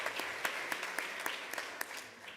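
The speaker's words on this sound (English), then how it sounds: "Let's give her a round of applause." An audience applauds at a county board of education meeting, a thin scattering of claps with sharp individual hits over a few seconds, moderately distant in a large room.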